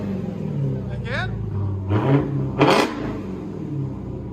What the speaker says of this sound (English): He's only revving it a little bit too